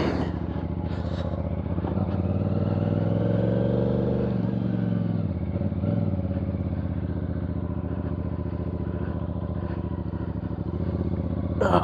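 A CFMoto CLC 450 motorcycle engine on a first ride, a loud steady drone that swells and dips with the throttle, close and continuous for the whole stretch.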